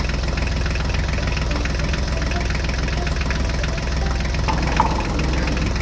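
A toy tractor engine idles steadily, a continuous rattling chug with even knocking that holds at the same level throughout.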